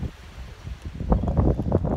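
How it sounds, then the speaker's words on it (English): Wind gusting outdoors beside a reservoir dam, a rough low rumble that strengthens after the first second into steady buffeting on the microphone, with no voices. "It's a bit windy out here"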